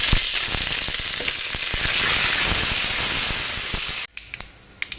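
Chana dal, urad dal, halved dry red chilies and curry leaves crackle in hot oil with a loud, dense sizzle that cuts off abruptly, leaving a few light utensil taps.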